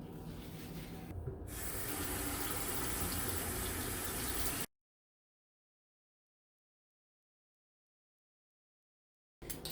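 Tap water gushes steadily while kale and collard greens from a home garden are washed, a continuous spray for several seconds that then cuts off into silence.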